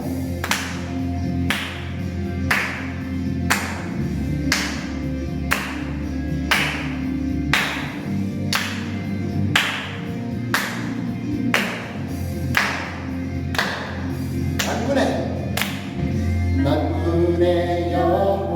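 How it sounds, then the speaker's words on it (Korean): A children's church congregation at a kindergarten worship service claps in steady unison along to a worship song, with sharp, regular beats continuing throughout under the music. "우리 박수로 하나님을 찬양해볼까요?"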